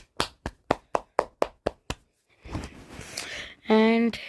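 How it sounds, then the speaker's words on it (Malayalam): A single person claps about eight times in a steady rhythm, sharp and close. A short pause follows, then some talking and a brief tonal sound from a mobile game. "സോ അവർക്ക് ഒരു സ്പെഷ്യൽ ക്ലാപ്പ് ഞാൻ കൊടുക്കുന്നു"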